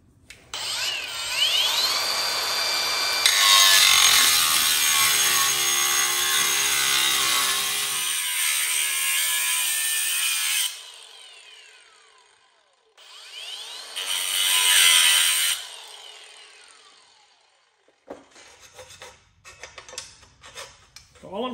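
A tool grinds and rasps along the edges of an aluminum Magicycle front bike rack to chamfer them, in long harsh strokes with pauses, then short scratchy passes.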